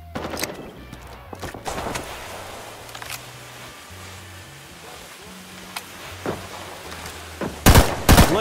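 Gunfire crackles through a Rising Storm 2: Vietnam battle: scattered single shots and short bursts at varying distances, ending in a loud close volley, over a low background rumble.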